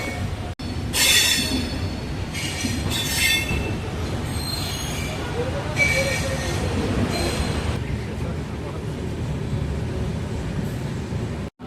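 A train, the Rapti Sagar Superfast Express, rumbles steadily through Coimbatore North station without stopping, bursts of high metallic wheel squeal rising and fading over the clatter, sounding close and continuous as it moves along.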